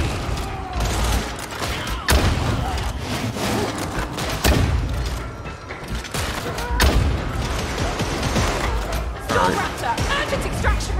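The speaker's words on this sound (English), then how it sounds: "Let's try out the shotgun." Shotgun blasts and combat noise from Warhammer 40,000 Darktide, several loud booming shots at irregular intervals over a dense, busy game soundscape, with voices talking underneath.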